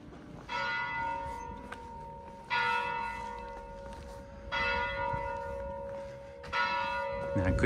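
Church bells ring out in four separate rounds of clanging peals, fairly distant, with quiet street ambience between them, in the French village of Saint-Côme-d'Olt.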